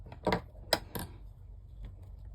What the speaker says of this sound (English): Get your scissors, put your hook down slightly, snip it.